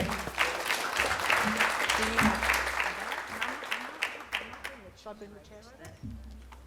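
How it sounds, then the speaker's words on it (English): A conference audience gives a big round of applause, full and continuous at first, then thinning into scattered claps as it fades and a voice begins speaking. "Could you please put together a big round of applause for Renae Bebbington?"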